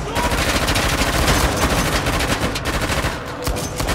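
Dense, continuous gunfire from several weapons in Uncharted: The Lost Legacy, rapid bursts and shots overlapping in a loud, sustained battle din.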